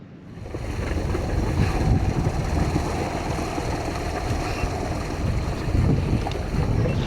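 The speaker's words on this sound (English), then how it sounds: "it sounds like there's one coming in now" Fishing boat coming in off Perlubie Beach, a steady low engine rumble mixed with wind buffeting the microphone and ocean wash, continuous and fairly even throughout.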